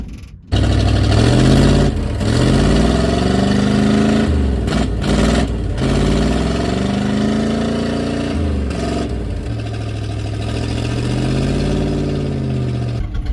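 A 1979 Chrysler 300 engine with a timing fault runs rough and uneven, its revs sagging and surging as it nearly stalls, then catching again, loud and close with no talking.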